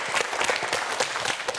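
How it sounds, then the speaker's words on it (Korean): Dense, continuous clapping from a studio audience at a televised quiz show cheers a student contestant, steady and fairly loud throughout the short burst. "우리 편서정 학생에게 여러분 큰 박수 부탁드립니다"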